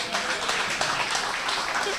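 A meeting audience applauds a speaker at a political party branch meeting. The clapping is a dense, steady wash of hands, with voices mixed in.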